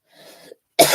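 A single sharp, loud cough bursts in near the end, after a stretch of faint background murmur and quiet.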